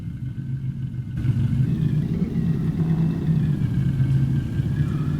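A car with a 5.7 V8 and six-speed manual in Farming Simulator 22, rumbling steadily with a low engine drone that rises slightly as it pulls away, close and alone.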